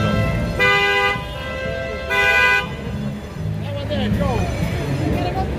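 Two long car horn blasts sound a couple of seconds apart, followed by a shorter toot, with engine rumble and someone talking amid street traffic.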